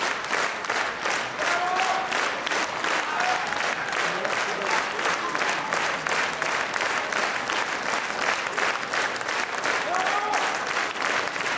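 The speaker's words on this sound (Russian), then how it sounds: "Благодарим вас, друзья, за ваши аплодисменты" A concert audience at a Valentine's Day show of Broadway songs applauds steadily, a loud, sustained wash of many hands clapping with an even rhythm and a few voices murmuring underneath.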